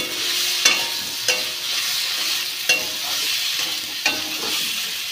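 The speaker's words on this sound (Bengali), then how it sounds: "মশলাটা ভাজা ভাজা হচ্ছে, দেখো এখনো হয়নি পুরোপুরি, হচ্ছে।" Spice paste (masala) fries in a pan under a steady close sizzle, broken by four sharp scrapes of a spoon stirring at roughly regular intervals.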